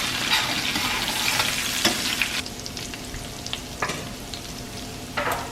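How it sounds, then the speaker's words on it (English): Garlic sizzles and fries in a hot pan alongside crispy bacon for a cheesy bacon pasta, with a steady crackle, loud scraping stirs and occasional clatters of a utensil against the pan. "let our garlic saute out a little bit"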